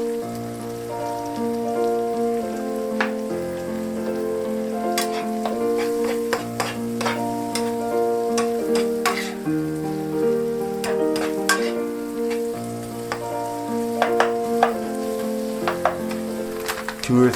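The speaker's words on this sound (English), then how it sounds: "Add the flour and stir well." Flour is stirred into mushrooms and chopped tomato frying in a single pan for Hungarian mushroom paprikash, a continuous crackling sizzle with repeated spoon taps and scrapes over a faint tonal background hum.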